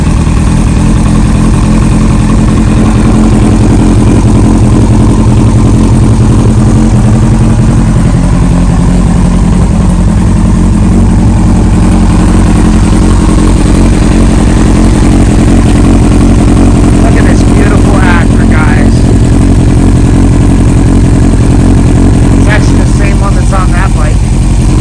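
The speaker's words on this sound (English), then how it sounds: "but we'll start the bike up." A 2001 Yamaha R1 motorcycle engine runs loud and close, a steady rumbling idle that fills the whole stretch, with a few higher revving flickers near the end.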